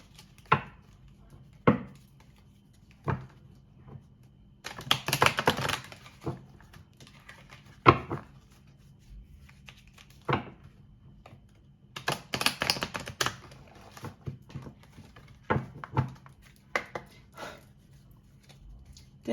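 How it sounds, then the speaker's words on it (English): A deck of oracle cards is shuffled close by in short riffling bursts, with sharp single taps and knocks between them and quiet pauses, and no talking. "So I'm going to give them a quick shuffle"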